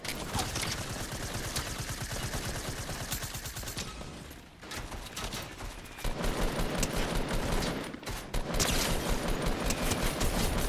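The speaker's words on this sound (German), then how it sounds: "ich muss den anderen töten mit der Maschinenpistole für meine Aufgabe" Submachine gun fire in the video game Fortnite, rapid dense bursts of shots running almost continuously, loud and close, with a short pause before heavier firing resumes.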